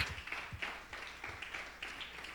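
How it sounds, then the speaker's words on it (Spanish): A church congregation applauding, with faint, steady clapping that rises in soft rhythmic surges over a couple of seconds. "Dele un aplauso al Señor"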